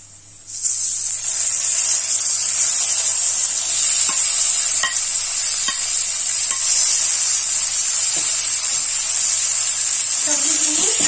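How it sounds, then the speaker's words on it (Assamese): Vegetables, ridge gourd and potato, fry with onions in a pan for Assamese rohu fish curry, giving a loud, steady sizzle with scattered clicks and scrapes of stirring throughout. "চব্জিখিনি মই পিঁয়াজৰ লগত ভালকে ভাজি লম।"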